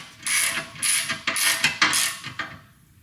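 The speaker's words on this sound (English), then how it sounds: "tighten up the rear too, and then we'll tighten down the clamp" A ratchet wrench clicks in several quick bursts as it tightens the exhaust clamp on a 2025 Harley-Davidson Road Glide fitted with a Tab Performance Zombie exhaust, close and distinct with short pauses between strokes.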